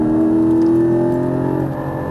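A Porsche Cayman GT4 engine drones loud and close under throttle at a track, a sustained tonal roar holding steady, with no voices over it.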